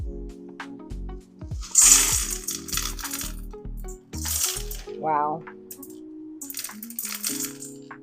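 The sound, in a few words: clay pebbles dumped out of pot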